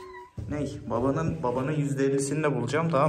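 A heavy domestic cat meows repeatedly in long, drawn-out calls, loud and close, while someone talks over it throughout.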